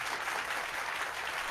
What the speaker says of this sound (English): Ah, the claps!